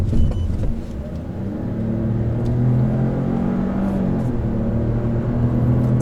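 A Chevrolet Malibu 1.35T three-cylinder engine labors under load while driving on a hot day, a steady low drone with rising and shifting engine tones throughout, no talk over it.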